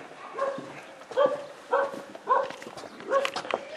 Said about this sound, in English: You hear a dog barking.